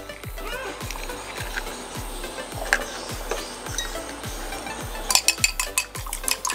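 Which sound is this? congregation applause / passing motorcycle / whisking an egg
whisking an egg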